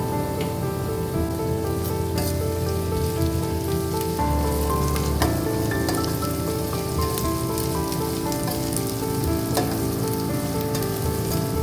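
Green chilli and curry leaves frying in hot oil for Kerala-style roasted rava upma: a loud, continuous crackling sizzle close up, with a few sharper pops along the way and no voices.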